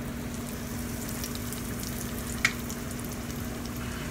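Food deep-frying in hot oil at 325 degrees, a faint continuous sizzling hiss over a steady hum, with one brief sharp pop midway.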